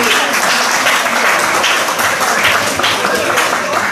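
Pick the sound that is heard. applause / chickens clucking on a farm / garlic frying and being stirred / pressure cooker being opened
applause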